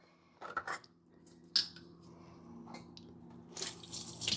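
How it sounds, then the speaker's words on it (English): Tap water runs in a sink while produce is washed for juicing, with clinks of dishes and splashing that grow louder and busier toward the end, and no talk. "I'm just going to add some more water."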